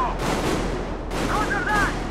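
Gunfire from covering fire in the video game Metro Exodus, a dense sustained rattle of shots with booming low rumble, continuous and loud throughout with brief whistling tones layered on top.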